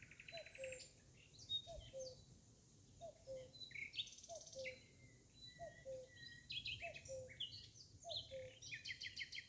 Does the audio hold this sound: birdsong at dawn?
yes